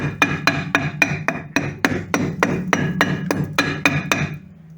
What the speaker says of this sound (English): There we go, with a bit of judicious hammering and levering.